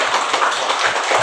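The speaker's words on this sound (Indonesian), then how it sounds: "tepuk tangan" A classroom group claps together for group 1, a dense, steady patter of many hands filling the room at even loudness for the whole stretch, with no talking over it.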